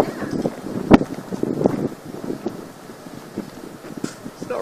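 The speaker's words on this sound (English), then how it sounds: "You watch the wind pick up on this if it comes back." Strong gusty wind from a microburst buffets the microphone in loud, uneven bursts with a sharp gust peak early on, rumbling and rustling continuously throughout.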